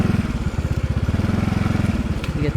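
A heavy motorcycle engine labours along a mossy, slippery mountain road on the San Nicolas–Itogon route, a close, loud, fast, even thumping pulse held at low revs without a break.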